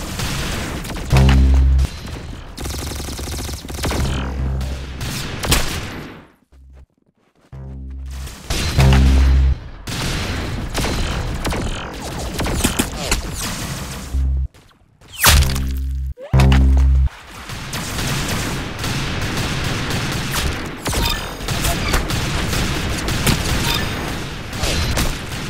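Rapid gunfire in the Roblox game Arsenal, loud bursts of cracking shots and booms that stop abruptly twice for brief silent gaps before the shooting resumes, with no voices.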